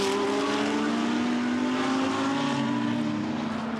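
GT race cars, including a Lamborghini, lap the Misano circuit at racing speed in a Blancpain GT World Challenge race. Their engines make a steady, continuous roar with shifting pitch throughout.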